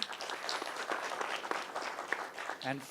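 An audience applauds panelists at a forum on agricultural supply chains and forests, a steady patter of clapping from a room crowd, fairly soft with a brief voice near the end.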